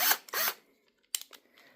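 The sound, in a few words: power drill driving machine bolts into stilts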